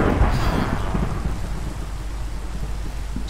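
A Minecraft thunderstorm, with a low thunder rumble at the start over a dense, steady wash of heavy rain that continues loud and unbroken throughout.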